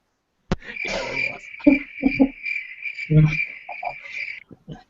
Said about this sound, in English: The cricket sound effect.